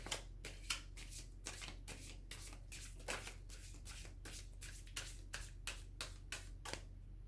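Tarot cards are shuffled in a steady series of crisp riffling snaps, about a dozen quick bursts at an even rhythm. They sound close but quiet over a low background hum, with no talking.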